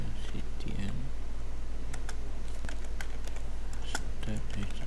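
Keys on a computer keyboard click in short, scattered bursts as a command is typed on a CentOS server setup, fairly close, over a constant low hum with no talking.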